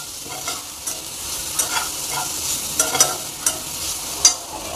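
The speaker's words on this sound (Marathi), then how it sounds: "1 स्पून पांढरे तीळ टाकून घेऊयात आणि 2 चमचे सुका खोबरा मिक्स करून घेऊयात।" White sesame seeds and dried coconut roasting in a pan, with a steady light sizzle broken by scattered crackles and the clink of stirring.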